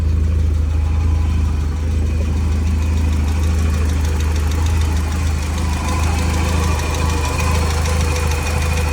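A Porsche 944 project car engine idles steadily just after starting, a loud, close, continuous low rumble with a slightly knocking, uneven throb.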